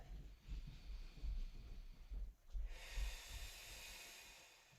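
Slow, soft breathing held during a yoga pose, heard as faint airy inhales and exhales with low rumbling handling noise, then a steadier hiss toward the end.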